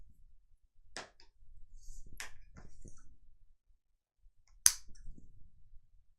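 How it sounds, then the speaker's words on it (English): Sharp shears trim the corners of a vinyl zipper case, making three crisp isolated snips in a quiet room. Faint handling rustles fill the gaps between cuts. "Take my lovely shears by Havel's and I trim all the corners."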